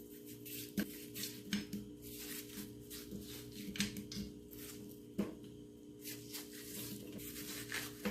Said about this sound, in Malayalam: നമുക്കിനി ഇതൊന്ന് ചെറുതായിട്ട് അരിഞ്ഞെടുക്കാം.